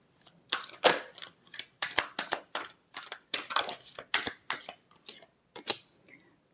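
Tarot cards shuffled by hand in a rapid run of crisp, papery riffles and slaps, close and fairly quiet, with short gaps between bursts.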